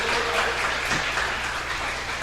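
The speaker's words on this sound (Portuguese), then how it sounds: "Aplaude o Rei Jesus," A church congregation applauds King Jesus during a bishop's sermon, a dense, steady wash of clapping filling the room for a couple of seconds.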